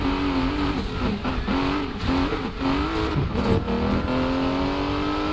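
A car in the racing video game Need for Speed Payback accelerates repeatedly, its engine note climbing and dropping through gear changes with a brief tire squeal, loud and continuous with no talk.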